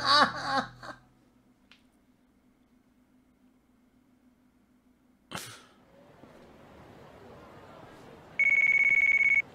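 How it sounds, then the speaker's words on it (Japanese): A phone rings in the video game Yakuza: Like a Dragon, a loud, steady electronic tone that comes in near the end after a quieter stretch of ambient game noise and a brief sharp burst. "結局電話の音でかくね？"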